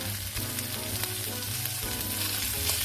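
A dollop of butter melts in a hot pan with a steady, close sizzle and faint crackling, continuous and unbroken by any voice.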